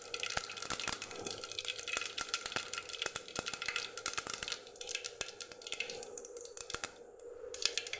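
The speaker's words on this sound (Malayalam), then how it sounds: "കുറച്ച് എണ്ണ ഇട്ട് അത് ചൂടായാൽ കടുക് ഇട്ട്" Mustard seeds crackle and pop in hot oil while tempering a quick Kerala mor curry, a dense, steady patter of sharp little bursts close to the pan with no talking.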